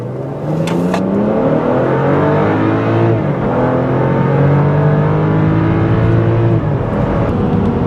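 A 2013 BMW X5 with a twin-scroll turbocharger accelerates hard from inside the cabin, engine note rising steadily through gears at a mile-high altitude, with a brief shift dip midway and a continuous loud drone throughout.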